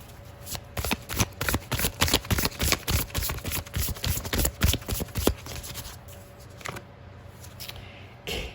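Tarot cards shuffled by hand in a rapid, close run of crisp riffling snaps for several seconds, then slowing to a few softer card slides and taps as cards are drawn, with no talk.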